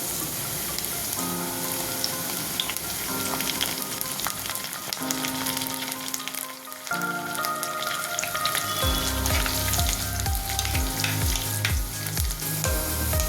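Curry leaves hit hot oil for a Kerala fish curry, giving a loud, steady crackling sizzle that runs throughout, with denser bursts of popping and spattering in the second half; no voices.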